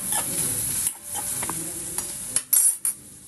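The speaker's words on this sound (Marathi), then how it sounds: "कांदा टाकलेला आहे, मिरची टाकलेली आहे, हळद घेऊया, जरा फिरून घेऊया" Onion, green chili and turmeric frying in a pan for kanda pohe, with cumin and curry leaves, a loud close sizzle broken by a spoon stirring and scraping against the pan; no talking.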